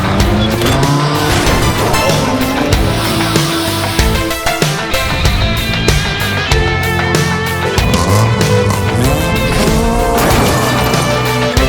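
A race car clipped by another car and crashing on gravel, with loud engine roar, tire squeal and skidding, and crunching impacts over a dense, continuous mix.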